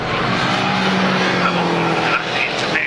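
Mini race cars, 2012 JCW club-class machines, roar around Brands Hatch in a steady loud wash of engine noise with tyre squeal and a pack of cars sweeping past, continuous throughout.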